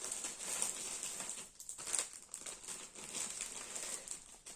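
Plastic packaging of a cross-stitch kit being unwrapped, with soft crinkling and rustling close by in an otherwise quiet room, no talking.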